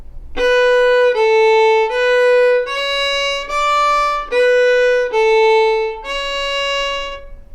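A solo fiddle plays the second ending of the reel Drowsy Maggie, eight distinct bowed notes in steady rhythm, the last one held longer, heard close and clear with no talking.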